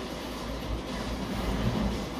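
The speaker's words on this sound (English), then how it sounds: "a train! Let's see what happens if we hit it." A train rolling past in Forza Horizon 3, a low steady rumble with rhythmic wheel clatter building slightly louder toward the end, fairly close and heard alone.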